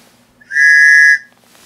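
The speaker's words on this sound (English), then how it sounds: "So first things first, Tops survival whistle." A Tops survival whistle, with three small holes that give a train-like tone, sounds once in a loud, piercing blast of about two-thirds of a second, rich in bright harmonics and close to the microphone.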